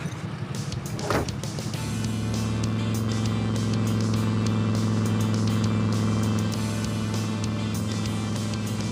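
A pink pro street cruiser with a tall 33-inch rear tire drives at highway speed, its engine holding a loud, steady revving drone after a brief rise, with constant road rumble and no talking.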